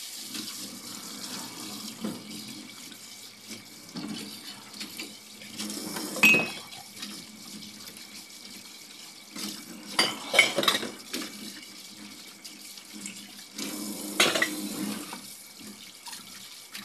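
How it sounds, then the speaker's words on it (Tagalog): Water runs steadily from a tap while a pot is scrubbed and knocked about, with occasional metallic clanks and splashy bursts; no one speaks. "Hugasan muna itong kaldero."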